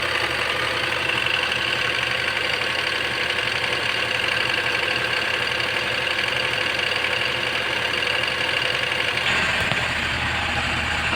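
A refrigerated van's engine idles with a constant, loud mid-to-low drone and a slightly rough knocking texture, with a brief change near the end as the compressor clutch engages.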